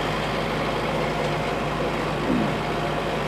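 A tractor runs a hay tedder in the field at about 1,600 RPM in second gear high range, giving a steady, even engine drone heard from the cab with a faint rushing background and no talk.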